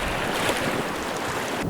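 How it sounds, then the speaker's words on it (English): Ocean surf rolling with steady wind noise blowing across it, a continuous broadband wash with no breaks, loud and close throughout. "Wind blowing. What else do we have here? Waves."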